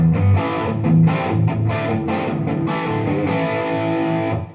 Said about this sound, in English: I can get a pretty nice saturated sound at a bedroom volume level